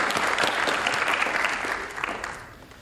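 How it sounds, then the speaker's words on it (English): An audience at a high school National Honor Society induction ceremony claps for the parents, a dense burst of applause that starts full and gradually fades over a few seconds. "So help me give your parents a big round of applause and thank them."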